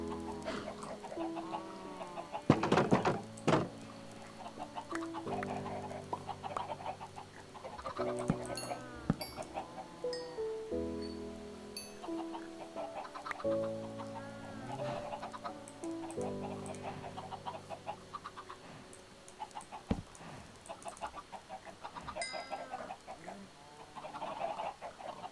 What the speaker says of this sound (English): Nice. Chickens.